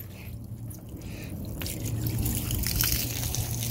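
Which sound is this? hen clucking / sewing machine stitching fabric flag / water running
water running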